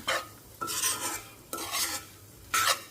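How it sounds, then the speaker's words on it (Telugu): Bitter gourd pieces coated in gram flour are stirred in a frying pan, with three or four distinct scraping strokes of a spoon against the pan over a faint background sizzle. "ఇదంతా కూడా మనం కలుపుకొని సిమ్లో పెట్టుకొని వేగనివ్వాలి"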